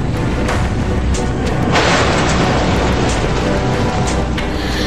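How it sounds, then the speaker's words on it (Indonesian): A marine military plane slams into a runway and explodes, heard as a loud, sustained roar of blast and rumbling debris with crackling bursts throughout, dense and continuous rather than a single bang. "pesawat marinir ini pun langsung jatuh menghantam landasan dan meledak seketika"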